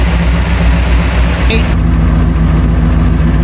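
A flathead engine with dual carburetors runs close by in a steady, loud, low idle, a brief sharp click partway through, with talk over it.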